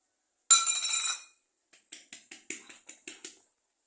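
Wheat flour, salt and baking powder shaken through a metal sieve: a short rasping swish, then a run of light, rhythmic taps and clinks, close and isolated.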